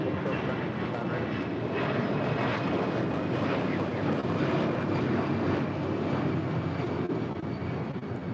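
American A319 airliner taking off from runway 25 right at LAX, a loud, sustained jet engine roar filling the air, with radio chatter between controller and pilots over it.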